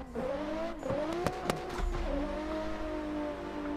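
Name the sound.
car drifting with tire squeal on a street drift track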